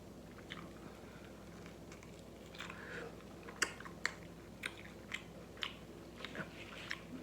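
Someone eating shrimp Alfredo tacos up close, soft bites and moist chewing with a few sharper crunchy clicks spaced through the quiet.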